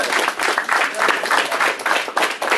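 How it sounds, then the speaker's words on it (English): An audience at a boxing post-fight press event applauds for Matthysse, a dense burst of clapping from many hands, fairly loud and steady, with faint voices mixed in. "I want everybody to give him a round of applause."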